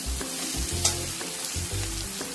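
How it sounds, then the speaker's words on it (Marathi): Mixed vegetables and peas stir-fried in a pan for Chinese-style pohe, with a continuous sizzle broken by rhythmic thuds and scrapes of a spatula tossing the food, no talking. "आपण सर्व भाज्या व्यवस्थित मिक्स करून घ्या."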